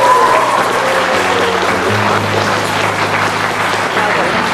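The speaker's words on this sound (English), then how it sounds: "Round of applause, ladies and gentlemen." Guests applaud newlyweds right after the wedding ceremony's kiss, a steady, loud wash of clapping sustained throughout with a low hum beneath and voices mixed in.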